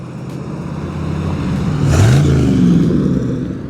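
A 1969 Chevrolet Corvette Stingray with a big-block engine approaches and drives past, its deep rumble swelling loud and close with a rising rev before easing off.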